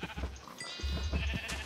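Several Minecraft sheep bleat in overlapping bursts, close and fairly loud, a wavering game-animal chorus with no talking.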